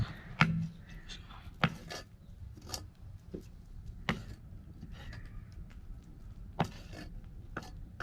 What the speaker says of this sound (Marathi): आता आपण हे जे नख आहे ना ते आपण कापून घेणार आहोत